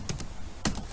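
Keys tapped on a computer keyboard while coding in Node.js: a few quick, close keystrokes in a short, quiet burst with a louder clack near the end.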